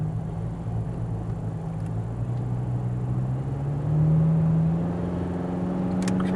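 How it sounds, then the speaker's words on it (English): A 4-cylinder midsize truck, two-wheel drive with a locking rear differential, accelerating while towing: a steady low engine drone that rises in pitch and swells slightly louder midway, heard from inside the cab with no talk. "See, I'm accelerating now, just fine."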